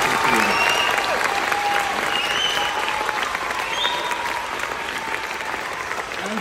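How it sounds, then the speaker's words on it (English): A school audience applauds a grade 8 band from Ecole Victoria School with sustained, thick clapping. A few faint voices and whistle-like cheers come through the applause, which eases slightly toward the end. "Let's applaud them for their musical challenges that they have overcome."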